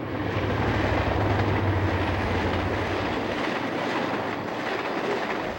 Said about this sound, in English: SP had only 3 General Electric U-50s. Here we catch one of them on the point of a westbound.